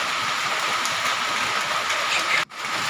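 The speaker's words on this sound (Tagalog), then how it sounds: "Sa hapong ito ay malakas ang ulan" Heavy rain on a farm in the afternoon, a steady loud hiss of downpour on surfaces filling the whole stretch, with a brief dropout near the end.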